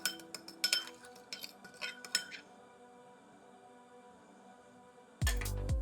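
Almond milk being stirred with apple cider vinegar in a dish, a spoon clinking quick and bright against the side in short bursts before easing into quiet scraping, then a louder low rumble near the end.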